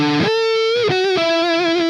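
An electric guitar lead tone through an Orange OR15 amplifier, distorted and singing, with a few sustained notes, a slide and slight vibrato, loud and close, with no voice.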